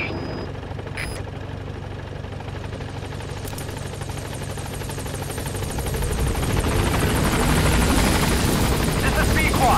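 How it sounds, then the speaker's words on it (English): A video game helicopter's rotor thump and turbine whine grow steadily louder and nearer as it arrives, filling the space with a dense, pulsing roar. "Support helicopter has arrived."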